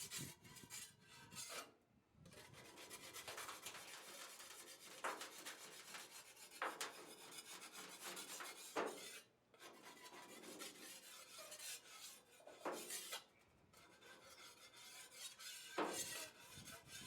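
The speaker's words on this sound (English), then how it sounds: "I continue the process by scraping the clay off the blade" Hardened clay is scraped off a quenched, hand-forged katana blade in steady rasping strokes, close up and fairly quiet, with short pauses and occasional sharper scrapes.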